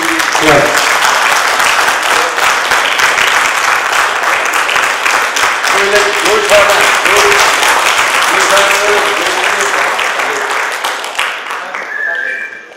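An audience claps steadily and loudly at a Lions Club of Kalwakurthy installation ceremony, a dense sustained round of applause that carries on for about eleven seconds before fading, with a voice speaking over it near the end.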